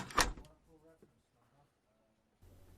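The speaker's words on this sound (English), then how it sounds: "Shut the door behind you." An office door swings shut with a single sharp thud near the start, followed by a quiet room with faint low murmurs and a soft rustle near the end.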